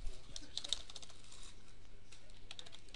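Someone types in quick, light keystrokes on a computer keyboard, giving a soft, close, irregular patter with a few sharper clicks and no voices.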